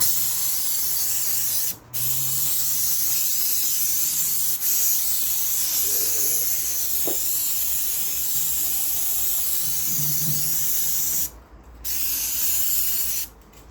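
A long steady spray hisses into the carburettor of a seized Briggs and Stratton engine, close and continuous with two brief pauses, no talking.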